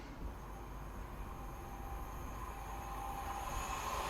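Class 87 electric locomotive 87012 in Network South East livery hauling a Wolverhampton to Euston service through Cheddington: a steady, moderately distant rumble of a passing train with faint wheel noise, building slightly, without speech.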